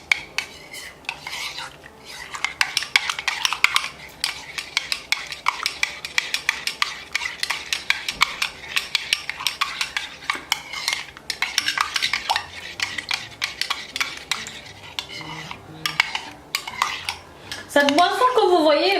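A spoon clinks and scrapes steadily against the sides of a cup while stirring a coffee drink sweetened with a tablespoon of honey, with rapid close metallic taps running throughout.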